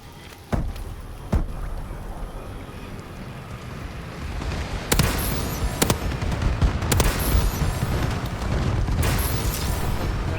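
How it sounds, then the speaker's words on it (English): A friendly bombing run in Call of Duty: Advanced Warfare multiplayer brings a series of heavy booms and rumbling blasts, some sharp and close, over continuous crackling battlefield noise. "Friendly bombing run clearing the way."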